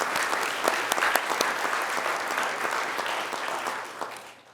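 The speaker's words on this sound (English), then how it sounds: "So I'd like to give a clap to Jeff," Audience at a Temecula city council meeting applauding a colleague, a steady wash of many hands clapping close and full, with a few sharper claps standing out before it tapers off at the end.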